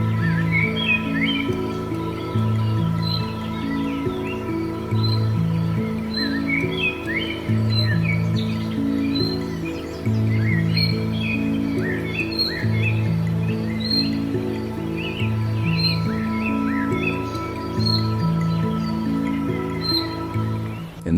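Birds chirp and tweet continuously in the African wild, many small calls scattered over a steady low droning background hum, fairly loud and with no voices.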